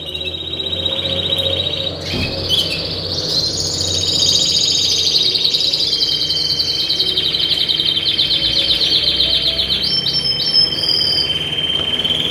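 Several canaries chirp and trill continuously near a feeder, bright high warbling song close by over a steady low background hum, with no talking.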